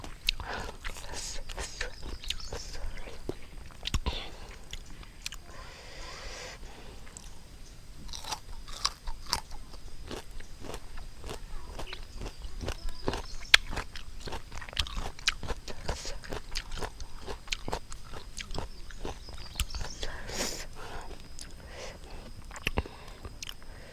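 Crunchy pickled mixed fruit is bitten and chewed close to the mic outdoors at a rubber plantation, with a long run of crisp crunches and wet chewing and occasional soft voices.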